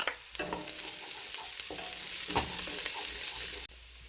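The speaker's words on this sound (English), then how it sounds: "Next we're going to add our garlic. Should only take about 30 seconds to sweat out." Garlic sweats in a pot for a Thai curry butternut squash bisque, a close sizzle with scraping stirs and soft knocks, cutting to a quieter hiss near the end.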